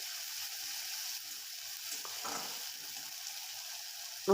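Spice paste for a bombay duck curry with pumpkin greens fries in a pan with a soft, continuous sizzle and faint stirring scrapes. A louder knock comes right at the end. No one speaks.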